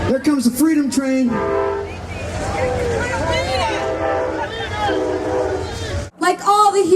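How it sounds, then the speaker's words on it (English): A train horn sounds at an outdoor Seattle Hempfest event, with long, wavering blasts that hold for several seconds amid a noisy crowd and a voice, then cut off briefly before the sound returns. "There comes the freedom train."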